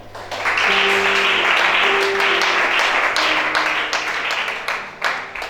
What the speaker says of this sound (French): Acclamons-la.